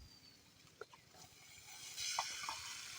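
Spices and asafoetida fry in oil in a kadai for village-style cooking, a faint, steady sizzle with a few light clicks that swells louder partway through.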